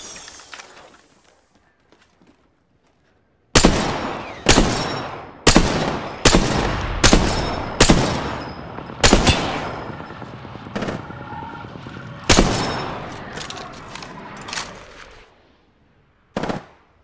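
Weapon fire in the battle royale game Apex Legends: a run of sharp, loud individual shots spaced about a second apart after a quiet start, with one final shot near the end.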